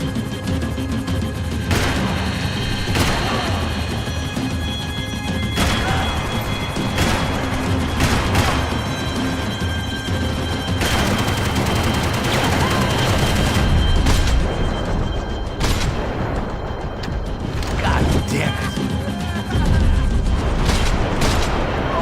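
Gunfire and heavy booms in Max Payne 3 crack out in repeated bursts over a dense, loud wash of action noise, with sharp shots recurring throughout and no talk.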